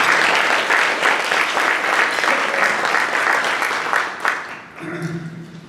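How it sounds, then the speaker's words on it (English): Dense applause from an audience at a Waco Rotary club meeting, loud and steady for several seconds before thinning out as a voice briefly begins. "if you would give them a round of applause"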